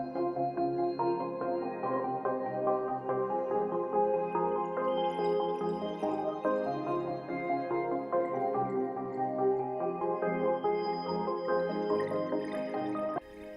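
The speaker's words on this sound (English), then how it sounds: "So then I added this pad from Super JV," A sustained synth pad from a Super JV patch with a watery, dripping texture, playing chords of shifting tones at a steady moderate level throughout, alone with no voices.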